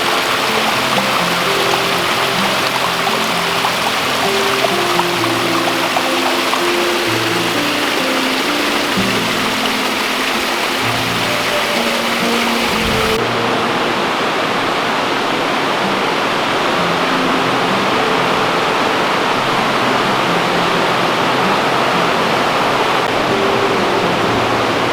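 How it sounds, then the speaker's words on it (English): Water trickles steadily through a small shaded forest creek on the Little River Trail in Great Smoky Mountains National Park, a continuous close rushing babble with no voices. "came across this beautiful little creek with trickling water"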